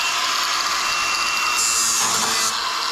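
A power tool grinds a metal fender edge down to bare metal on a 1969 Dodge Daytona, a loud, steady, high-pitched whine that shifts pitch partway through as the grinder bears on the steel.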